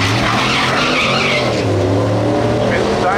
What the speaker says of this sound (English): Spins the tires and bounces the back end of the truck once again.